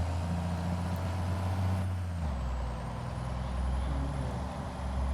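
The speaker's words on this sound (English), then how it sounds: "We're gonna take the grain truck, the old Volvo, back to the bin site" An old Volvo grain truck with air brakes idles and rumbles up close at a farm during corn harvest, its low engine drone steady with a shift in pitch partway through, no talking.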